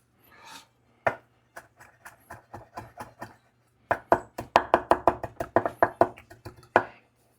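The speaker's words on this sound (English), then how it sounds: "I'm not good at chopping herbs." A knife chops chives on a board in quick, sharp taps, first a few scattered strikes, then a faster run of about a dozen, close and fairly quiet over a low hum.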